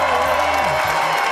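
A large crowd at the State of the Union cheers and applauds as the president enters, a dense roar of voices with tonal undertones, loud and unbroken over a short burst.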